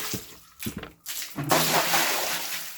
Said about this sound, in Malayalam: ഓക്കെ, അങ്ങനെ ഒഴിക്കുന്നു. ആഹാ, നല്ല കെട്ട വെള്ളമാണ്.